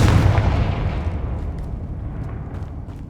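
A Confringo fire-blast spell explodes in Hogwarts Legacy, a loud booming burst at the start whose deep rumble rolls on and slowly fades over a few seconds, with faint crackles on top.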